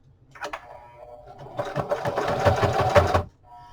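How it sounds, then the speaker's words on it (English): Sewing machine stitching back and forth across elastic on an old book cover, a short steady mechanical whir of about two seconds after a brief click, close and fairly loud with no talking. "I'm just going to go back and forth across that elastic a little bit"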